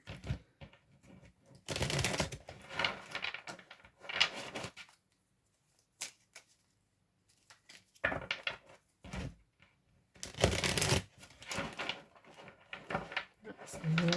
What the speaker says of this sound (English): have a good old shuffle